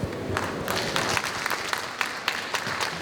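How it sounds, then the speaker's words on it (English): An audience at a conference side event on population ageing in Africa applauds the panel members, a loud, even wash of clapping that continues without a break, with sharp claps popping through. "I'd like to appreciate the great contribution of panel members with a big applause"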